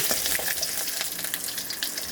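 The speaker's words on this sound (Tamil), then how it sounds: "கடாயை வச்சு எண்ணெய் வச்சு கடுகு சீரகம் போட்டு தாளிச்சிடலாம்" Mustard seeds and cumin crackle and fry in hot oil in a kadai for tempering, a steady close, dense sizzle with scattered pops running throughout, no voices.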